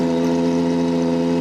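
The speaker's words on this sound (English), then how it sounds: "You can hear the V12 from Goodwood, naturally aspirated one." Naturally aspirated V12 engine of a Gordon Murray supercar idling close by in the Goodwood paddock, a loud, steady, smooth hum with a rich layered tone and no revving.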